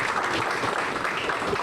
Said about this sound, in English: you may be able to hear the crowd that we've got in the background that you can't see